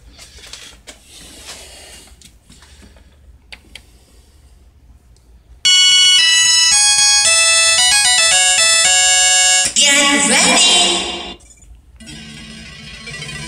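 Noisy background gives way to loud, bright, rapid chiptune-like game music from a Pandora's Box 5 arcade board through a loud amp, sounding sped up and harsh, then fades into clutter.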